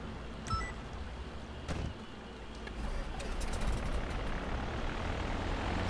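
Seabreeze seaplane propeller engine in GTA 5 Online, a steady droning roar that swells slightly louder, with a few brief clicks early on.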